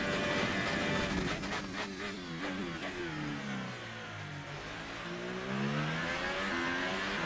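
A Formula 1 car engine in the F1 2018 video game revs hard, its whine sweeping up and down through gear changes and settling into a rising drone, loud and close with no talk.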